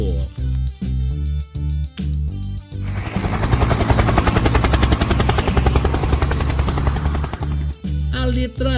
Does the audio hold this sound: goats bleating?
no